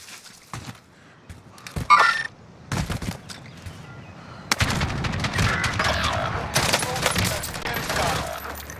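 Hostile gunfire in Warzone Rebirth: scattered single shots at first, then loud, rapid bursts and sustained volleys close by, with a voice speaking over part of it.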